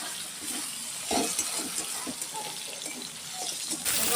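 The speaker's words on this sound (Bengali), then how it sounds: "এবার ঝোলের জন্য দিয়ে দিচ্ছি পরিমাণ মতো জল।" Water poured into a pan of fried spice paste to make gravy for a chital fish curry, a close, continuous splashing gush with soft bubbling.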